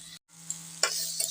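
Cut potatoes fry in a pan while being stirred. Soft sizzling runs under a few short, sharp scraping strokes, broken by a brief silent gap near the start.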